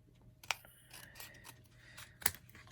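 Scissors trim the top edge of a piece of cardstock, giving a few quiet, crisp snips spaced across a short moment in a still room.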